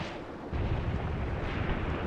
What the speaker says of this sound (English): But their heavy artillery still causing me problems in the support company.